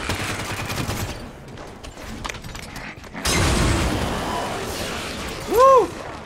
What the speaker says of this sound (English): Three grenades is all it took.